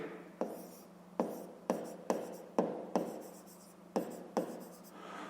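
Pen writing by hand on paper during a fifth-grade maths exercise, heard as a series of about eight short scratchy strokes with brief pauses between them, close and fairly quiet.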